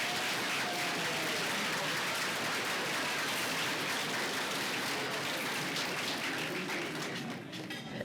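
A large audience at a female athletic awards ceremony gives sustained applause, a dense, even roar of clapping that holds steady for several seconds before easing slightly at the end.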